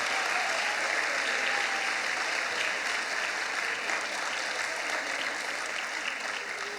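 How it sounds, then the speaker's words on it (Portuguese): A church congregation applauds in a steady, dense wash of clapping, loud and even from start to finish with no talk over it. "Você pode aplaudir ao Senhor? Aplauda ao Senhor."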